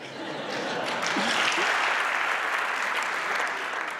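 An audience breaks into sustained applause, a dense wash of many hands clapping that swells and holds steadily for several seconds, with faint crowd murmur and a chuckle underneath.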